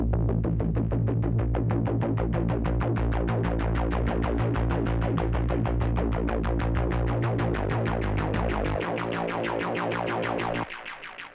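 A heavy, distorted synth bass in a modern metal production throbs in a rapid, steady pulse, loud and gritty throughout, before cutting off abruptly near the end.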